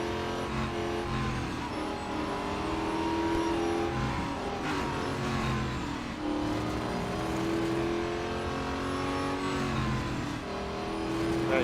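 A race car engine in Real Racing 3 roars steadily for the whole stretch, its pitch climbing and falling through gear changes as it accelerates, loud and close with no voices over it.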